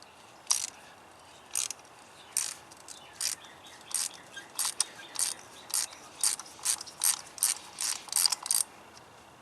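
Ratchet wrench with extension and spark plug socket loosening a spark plug on a 2008–2012 Chevy Malibu 2.4 engine, a series of sharp clicking bursts in an uneven rhythm, close and clear with no talking.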